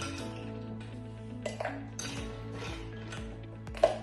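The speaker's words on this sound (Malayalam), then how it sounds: "ഇതിലോട്ട് നമുക്ക് കുറച്ച് ഐസ് ഫിൽ ചെയ്യാം." Ice cubes drop into a cocktail shaker while a whiskey sour is being made, giving a scattered series of sharp clinks and rattles over a quiet, humming background.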